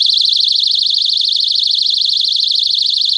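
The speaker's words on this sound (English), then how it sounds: "I've got an alarm." A personal alarm sounds as a loud, piercing, warbling electronic tone. It holds steady and close for about three seconds, then cuts off.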